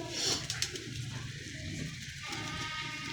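A domestic pigeon from a kept breeding pair coos close by, its low, soft, throaty calls rolling on steadily under a quiet background.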